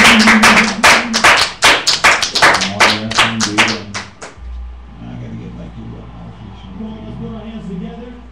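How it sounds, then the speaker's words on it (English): A group claps and cheers in praise of a father at an end-of-year school gathering, with loud irregular clapping for about four seconds before it cuts off to quieter room sound and a low hum. "give your father a hand and clap of praise"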